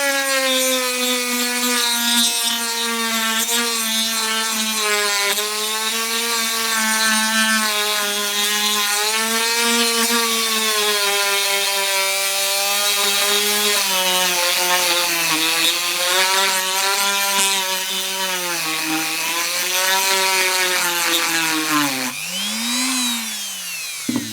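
Wood grips for a Remington 1911 replica air pistol are being shaped by hand, producing a loud, continuous, close rasping drone that wavers in pitch for the whole stretch, with no voices.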